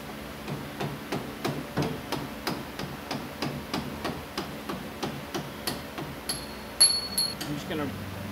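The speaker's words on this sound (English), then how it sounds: "we're going to have to get ourselves a metal punch and put it on the end of the bolt so we can continue pushing that through" Metal punch hammered against a Club Car golf cart front leaf spring bolt: a steady series of about fifteen sharp, close metallic strikes at a regular rhythm, ending with a brighter ringing clink.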